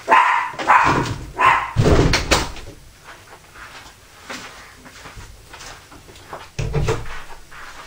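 Loud dog barks come in a burst of several close, sharp woofs, then fade to quieter rustling before one more bark near the end.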